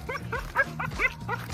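During prey drive training, a puppy gives a rapid run of high, close yips and whimpering barks, about five or six sharp bursts in quick succession.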